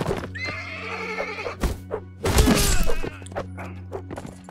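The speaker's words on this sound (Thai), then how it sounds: "นี่มันม้านี่หว่า" Horse whinnying loudly near the start, followed by thuds and hoof clatter in the medieval combat game Mount & Blade Warband, with sharp impacts and a clashing burst midway.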